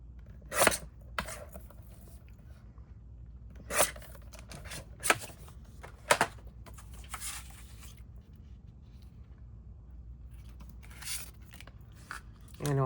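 Piece for a Casey Jr. Circus Train model being trimmed to shape, with a handful of sharp, separate cutting snips spaced irregularly, close and fairly quiet against a soft room background.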